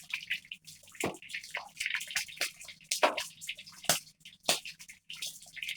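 Water trickles and drips into a soup pot for salmon and spinach soup, a faint, irregular run of small splashes and droplets in an otherwise quiet kitchen.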